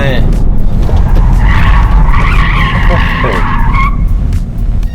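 An MG 4 XPower or Tesla Model Y Performance corners at speed on a test run, its tires squealing in long skidding whines over loud road and engine roar, with someone talking over it.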